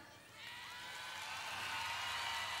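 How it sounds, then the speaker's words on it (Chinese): A concert crowd at a show swells into faint, distant applause and cheering, a soft wash of noise building steadily over a couple of seconds with no voice on top. "可唔可以俾啲掌声啊？"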